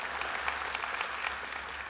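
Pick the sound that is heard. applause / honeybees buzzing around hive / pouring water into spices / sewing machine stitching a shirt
applause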